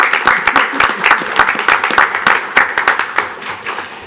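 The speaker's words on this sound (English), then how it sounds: "let's have a good round of applause" Council members and attendees at a Royal Oak City Commission meeting break into a steady round of dense, close applause that holds at full strength, then tapers slightly toward the end.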